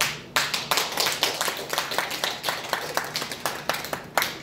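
Audience clapping at a Daejonggyo religious lecture: a small group claps in quick, sharp, uneven beats close by for several seconds, with no voices.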